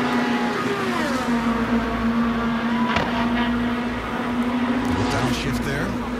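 Scott Dixon's Chip Ganassi Racing Indy car at the Indianapolis Motor Speedway during 2017 Indianapolis 500 qualifying, a loud sustained engine drone with a gear shift partway through, under continuous commentator talk.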